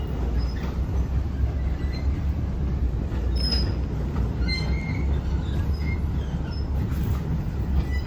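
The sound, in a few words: train passing on rails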